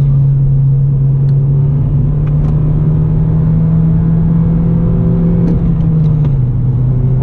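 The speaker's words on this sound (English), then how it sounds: "Gonna do a heel toe here for you guys." A car engine during a heel-toe downshift, rumbling at a steady drone up close, with a slight rise and fall in pitch as revs are matched near the end; no talking.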